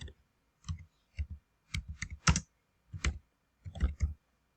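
Typing on a computer keyboard while writing a beginner Python project: short bursts of crisp clicking keystrokes, close and fairly quiet, with brief pauses between groups and no talk.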